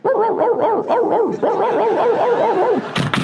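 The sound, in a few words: dog barking, imitated by comedian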